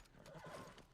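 A horse whinnies in The Last of Us game, a clear high neigh with some clip-clop of hooves under it, close and moderately loud.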